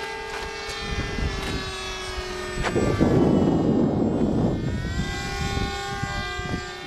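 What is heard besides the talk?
model airplane flying with flaps, coming in to land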